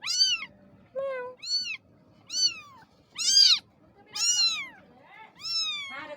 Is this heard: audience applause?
no